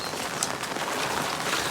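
Steady hiss of rain falling, a dense even patter with no breaks, fairly close and constant throughout.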